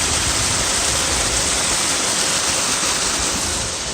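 Loud, steady rush of river water pouring down a channel toward irrigation diversions in Kaua'ula, Maui, a constant broadband roar close to the microphone with no speech.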